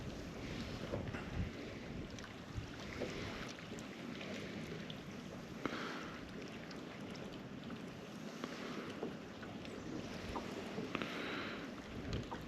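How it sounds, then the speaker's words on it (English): Steady wind roars across the microphone with a constant broadband rush while crappie fishing, close and fairly loud, while water laps faintly underneath. "It's windy again."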